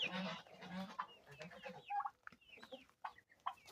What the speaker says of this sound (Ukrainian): А тут моє то царство. Качки і цепліта.